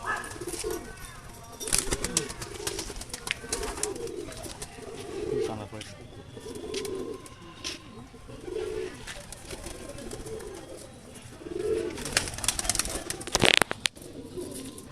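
Madras pigeons coo repeatedly in soft, rolling phrases from a loft, with wing flutters and a sharp clatter near the end, while voices murmur faintly underneath.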